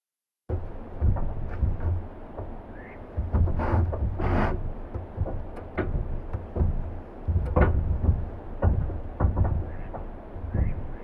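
Metallic, resonant comb-filter preset on an Elektron Digitakt II, built from a recording of metal parts on canal locks, giving a dense rumbling drone with clanging, ringing hits that swell and fade at moderate volume.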